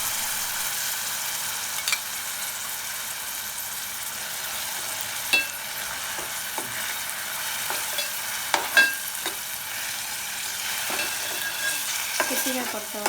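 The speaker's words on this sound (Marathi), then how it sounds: "लालसर होईपर्यंत परतवून घ्यायचं." A ground paste sautéed in a pan for batata vada gives a low, steady sizzle, broken by scattered scraping clicks of a spatula stirring it, close by and with no voices.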